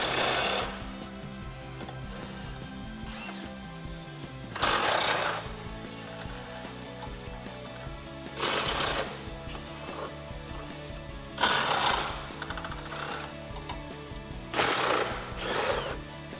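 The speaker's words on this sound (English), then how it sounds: "Grabbing our impact gun with a 10mm socket, remove this bolt here and this one at the top as well." An impact gun fitted with a 10mm socket removing rear hitch bolts on a 2006-2014 Ford F150, several loud, rattling hammering bursts of a second or two each, separated by quieter pauses.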